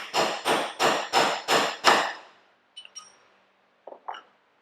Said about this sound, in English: Use a drift pin to set that carriage bolt.